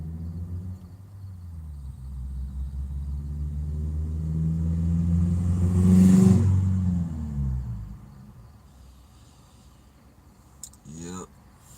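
A car engine revs as the vehicle drives past, the low rumble swelling to a loud peak midway and then fading as it moves away.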